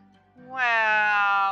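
A pet cat in the Roblox game Adopt Me gives a single clear, bright meow that swells and holds, loud and close.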